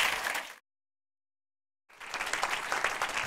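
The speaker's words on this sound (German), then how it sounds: "Großen Applaus schon mal" Audience applause at a German film screening of The Ordinaries: a burst of clapping that stops abruptly, a second of silence, then resumes loud and dense.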